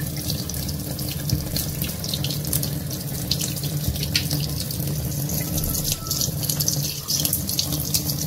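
Tap water running steadily into a sink while dishes are washed by hand, a continuous close splashing rush with occasional clatter of utensils, no talking.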